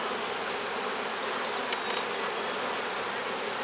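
Honey bees buzzing steadily around an open hive during an inspection, a dense close hum that holds for the whole stretch, with no voices.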